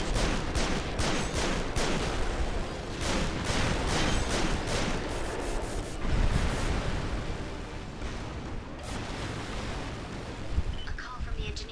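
Incoming gunfire aimed at the player in a video game, a sustained barrage of loud sharp shots and bursts with heavy booms, steady and close throughout with a voice talking over it.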